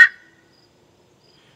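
A turkey call on a slate pot call, the striker worked in small circles, gives one short, sharp yelp up close, followed by near silence.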